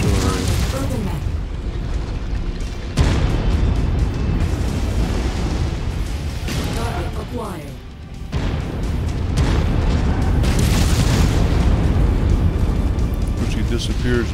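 Artillery shells bursting in a tank video game, a series of heavy booms and rumbling blasts spread across the clip, with game voice callouts between impacts.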